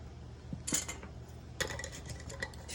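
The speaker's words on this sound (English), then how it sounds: "We're going to take our lids, place them on top." Metal canning lids set down on top of filled glass jars, a few light metallic clinks and taps close by in a quiet kitchen.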